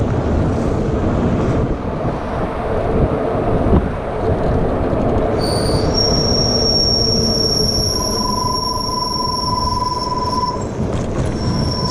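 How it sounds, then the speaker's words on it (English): Disc brakes on a FIIDO T1 electric bike squeal while riding, a steady high-pitched whine that starts midway and holds for several seconds, over constant wind and road rumble. "Someday I'll figure out these fucking brakes. Try to get them to quiet down"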